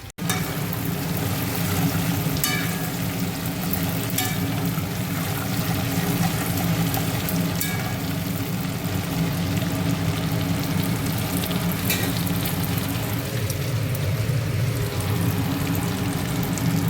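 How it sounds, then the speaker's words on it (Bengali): Cauliflower fritters deep frying in hot oil, a steady dense sizzle and bubbling that runs continuously and fairly loud throughout, with a few brief clicks and no talk. "ফুলকপির বড়াগুলো বেশ ভাজা হয়ে গেছে"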